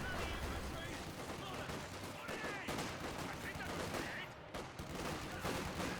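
Vickers machine gun firing in Company of Heroes 2, sustained gunfire bursts amid battle noise under a steady game soundscape, fairly faint overall.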